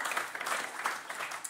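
Brief, moderately quiet applause from an audience at an Amsterdam architecture prize event, a short burst of scattered clapping.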